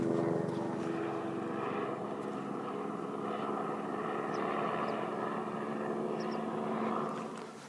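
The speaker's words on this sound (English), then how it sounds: "Choppers out as well." Helicopter flying over a Peak District ridge near Bamford Edge, a steady mid-distance rotor and engine drone holding throughout before easing off at the end, with no talk.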